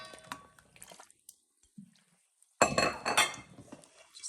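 Roasted peppers tossed by hand with a garlic, feta, parsley and oil dressing in a bowl for a Serbian pepper salad: wet squishing and scraping, light clinks of utensil on dish, with a near-silent pause midway.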